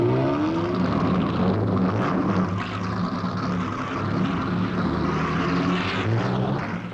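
A Ferrari racing car at the 1953 Mille Miglia gives a steady, loud engine roar, droning continuously as it passes, with no talk over it.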